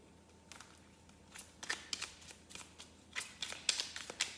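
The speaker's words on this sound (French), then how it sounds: "On va aller chercher maintenant des petites cartes avec la mission de vie." Tarot-style cards handled close by in a quiet room, a string of soft, crisp flicks and slides that quicken toward the end.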